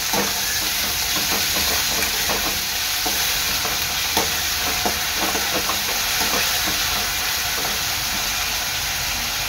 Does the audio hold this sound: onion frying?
yes